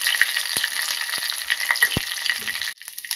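Dried red chillies and seeds crackle in hot oil for a tempering, a dense close sizzle with a few sharp pops, cutting off abruptly near the end.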